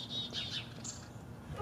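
Birds chirping outdoors, a few faint high tweets near the start and another brief call later, over low background rumble, quiet and somewhat distant.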